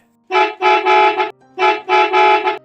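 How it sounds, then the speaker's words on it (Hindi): A bus horn honks in two bursts of loud, harmonic blasts, each burst made of several quick toots run together, close by. "फिर ड्राइवर हॉर्न बजाता है"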